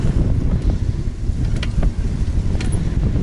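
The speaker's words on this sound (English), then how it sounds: "I'm heading into quite a wind here." Strong wind buffeting a cloth-covered microphone while riding along a road near Hoi An, Vietnam, a steady low roar and rumble that stays loud and continuous throughout, with no voice.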